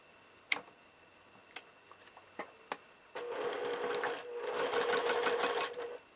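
Sewing machine stitching quilt block units, a few sparse ticks and clicks first, then a steady close whirring run that pauses briefly and resumes louder before stopping.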